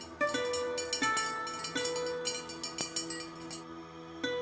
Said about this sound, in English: This is the sound of Ru ware.